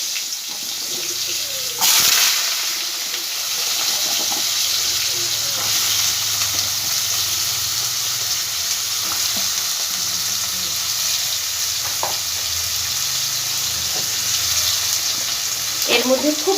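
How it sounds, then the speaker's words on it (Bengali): Cut potatoes fry in hot oil with a continuous close sizzle and bubbling, a sharp burst of crackle as they hit the oil early on, then a steady hiss with occasional stirring clinks. "আলুটাকে আমি একটু ভালো করে ভেজে নেবো আগে"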